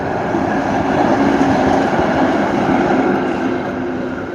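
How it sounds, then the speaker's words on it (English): A street tram rolls past in Vallila, Helsinki, a steady close rumble with rail clatter and wheel noise holding at high level throughout, easing slightly near the end. "there's the tram"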